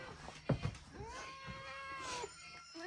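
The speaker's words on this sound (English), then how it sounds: "You being good, Pootie Cat?" A cat meows several times in drawn-out, rising and falling calls, fairly close, with a few soft thumps and a little room noise around it.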